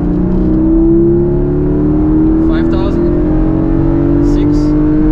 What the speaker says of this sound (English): let's open the exhaust and start to drive it